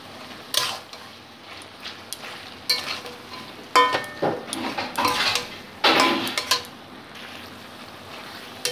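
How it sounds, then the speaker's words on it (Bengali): A metal spatula stirring and chopping Bengali mixed vegetable curry in a pan, giving irregular clanks and scrapes against the metal over a soft sizzle, close and fairly loud, no talking. "চিনিটাকে মিশিয়ে দিয়ে সবজিগুলোকে আমি একটু খুন্তির সাহায্যে কেটে দিচ্ছি।"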